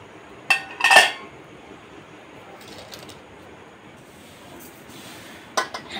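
Metal cooking pots and a kadai clink as they are handled while preparing egg biryani on a clay stove, with a couple of brief clattering knocks early and another near the end over a quiet background.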